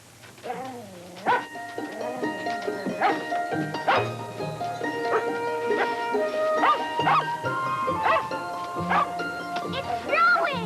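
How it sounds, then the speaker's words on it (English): A dog barks and yips repeatedly in an indoor film scene, short sharp barks in an irregular run amid background music and other sound. "What's Jack barking about?"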